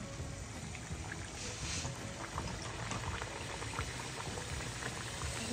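Luchi, puffed Bengali flatbread, deep-frying in hot oil in a wok, giving a steady, close bubbling hiss that stays loud and even throughout with no talking.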